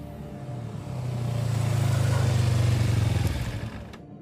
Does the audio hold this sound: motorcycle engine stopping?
yes